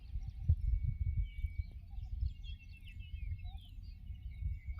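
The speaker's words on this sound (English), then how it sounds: "They are all twittering, they are all telling something in their own melodious tones" Birds twitter and sing high in the treetops: scattered, fairly faint chirps and short warbles over a steady low outdoor rumble, with no one talking.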